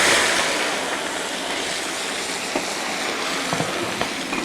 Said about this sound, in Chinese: 把那个排骨稍微给它多煎一下，多余的油脂逼出来它更香。